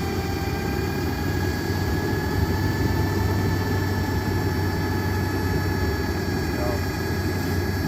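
A Metro FB-15 tow truck's engine runs at a steady, loud drone with a whining hydraulic hum while the boom rotates, continuous throughout, with someone briefly speaking at the start.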